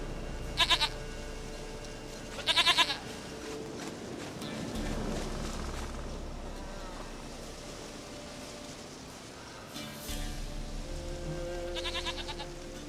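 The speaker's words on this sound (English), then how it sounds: "Goat of mine, dearest, sweetest goat." Goat bleats in The Witcher 3 video game, a few short bursts near the start and end over a steady soft rain-like background hiss.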